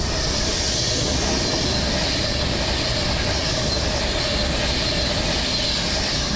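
Avanti West Coast electric train 390001 at Crewe station, a loud, steady roar of traction and rolling noise held close and unbroken throughout.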